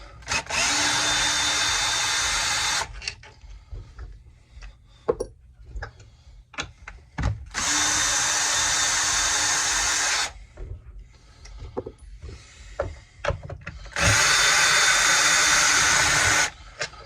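A power tool removes the starter bolts from a Homelite Super XL Auto chainsaw in three loud, sustained whirring, hissing runs of a few seconds each. Quieter clicks and handling knocks of the parts fill the pauses.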